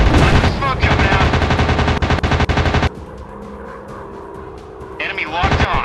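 Loud, rapid bursts of fighter-plane machine-gun fire crackle in a flight-combat simulation game, a sustained volley that cuts off midway, then a quieter stretch before another short burst, with engine noise and game voices.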